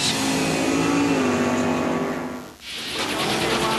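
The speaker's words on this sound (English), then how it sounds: "nothing's faster than the nitromethane-burning, fire-belching, top-fuel dragsters" A nitromethane-burning top-fuel dragster engine roars at full throttle, loud and sustained, then briefly dips before surging back up as the car accelerates.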